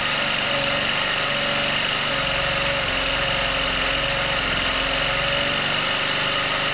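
A small carbureted engine that has sat unused for a month or two runs steadily just after starting, a constant high buzzing drone, close and loud with no talk over it.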